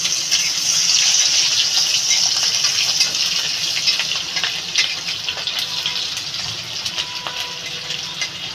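Crushed garlic tossed into hot oil in a home kitchen, sizzling steadily and loudly throughout as a bright continuous hiss that gradually eases, with no talking.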